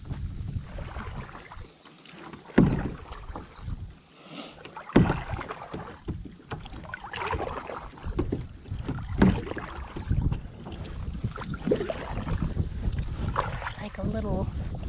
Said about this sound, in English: So I'm going kayaking.